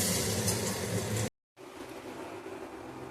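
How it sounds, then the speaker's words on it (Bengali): Flattened rice pulao (chirer polao) with sugar and salt being stirred in a pan, a steady close sizzling scrape that cuts out briefly, then resumes softer and continuous. "এবার একটু ভালো করে নাড়াচাড়া করে নেব"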